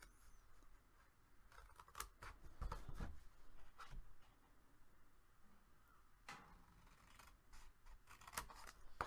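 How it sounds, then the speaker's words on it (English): Scissors cut along a score line in paper for a folio craft project. Quiet, scattered snips and rustles sound close by in a calm room. "So just cut right on the score."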